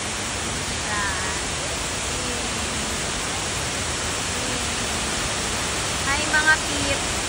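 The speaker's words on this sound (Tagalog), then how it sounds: "nandito tayo ngayon sa Shiraito no Taki Waterfalls" Shiraito no Taki waterfall roars as a steady, dense rush of falling water, loud and unbroken throughout, with faint voices briefly audible near the end.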